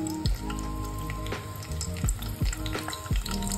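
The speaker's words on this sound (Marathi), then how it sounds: "तेल मस्त तडतडून तापलेलं आहे" Curry leaves dropped into about two spoonfuls of hot oil in a wok crackle and sizzle steadily, with several sharp popping bursts standing out over the continuous frying hiss.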